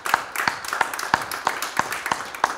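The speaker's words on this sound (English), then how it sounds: "Give the Lord a hand clap." Church congregation clapping together in a steady rhythm, about eight sharp, evenly spaced claps in a reverberant room, fairly close and loud.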